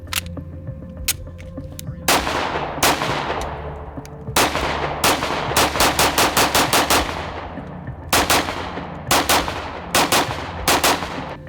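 Shots from a Ruger 5.7 pistol at an outdoor range: sharp, loud, close reports, single shots and then rapid strings of about six to eight, each ringing out briefly.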